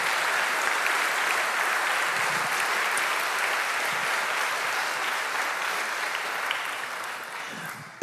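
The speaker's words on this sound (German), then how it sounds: "Großen Applaus für Sie." Sustained, even applause from a crowd at a live geoscience stage show in Bonn thanks researchers, a broad wash of clapping held at a steady level for about eight seconds before cutting off.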